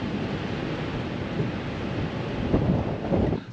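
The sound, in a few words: storm wind and thunder outdoors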